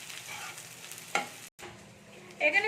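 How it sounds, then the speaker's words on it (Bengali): Sliced onions hit hot oil in a pan and fry with a soft, close sizzle, broken by a sharp clack, a brief gap, then renewed spattering. "এবার এই পেঁয়াজটাকে একটু আমি ভেজে নেবো"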